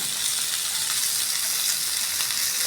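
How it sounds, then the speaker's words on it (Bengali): Meat frying lightly in hot oil before being cooked into a roast, a steady close-up sizzle with hissing spatter that holds evenly throughout, with no voices. "রোস্টের জন্য হালকা ভাজা দেবো, বেশি না।"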